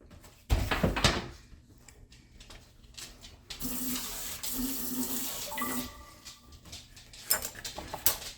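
Water runs from a tap into a pickling container with brown sugar and vinegar, a rushing stream that swells and fades in stretches, interrupted by a sharp knock and clattering handling noises nearby.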